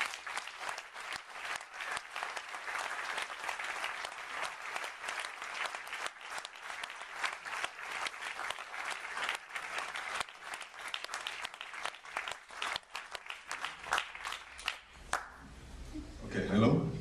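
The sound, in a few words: audience applause welcoming film director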